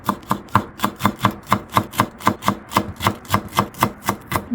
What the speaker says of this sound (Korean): 이 부분은 이것도 반으로만 잘라주세요